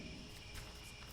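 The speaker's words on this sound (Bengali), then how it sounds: "খালি ঝিঝি পোকার ডাক।" Crickets chirp at night in a rural setting, a steady dense high trill, faint and alone with no other sounds.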